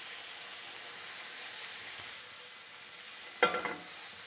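Shrimp cook in a pan with a steady, bright sizzling hiss, close and even, broken near the end by a brief sharp scrape or stir; no speech.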